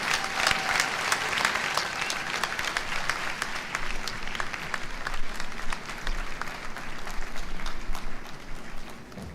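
Sustained applause from an audience at a 50th-anniversary celebration of the PATHE'O fashion house in Ouagadougou during FESPACO, with dense, steady clapping throughout at even loudness and no talk.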